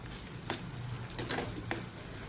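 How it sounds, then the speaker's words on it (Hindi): Pav bhaji vegetables cook in butter in a pan, with a close, continuous sizzle broken by a few quick scraping stirs of a spoon against the metal. "तो बटर डाल दिया। अब मैं एक बार फिर से पकाऊंगी।"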